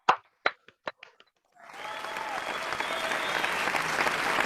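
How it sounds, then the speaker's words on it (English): Audience applause breaks out for a newly installed Toastmasters executive committee at an installation ceremony, a few separate claps at first, then steady, sustained clapping that fills the rest of the moment. "Please give them a big round of applause."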